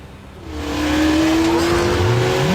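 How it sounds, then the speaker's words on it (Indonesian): A luxury taxi chasing a supercar. Car engines rev up and accelerate hard, with rising engine tones and a brief tire squeal near the end, loud and close with no talk. "Taksi mewah melawan supercar."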